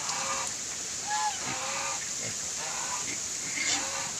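Several geese honking in short, scattered calls, fairly faint, over a quiet outdoor farmyard background at feeding time.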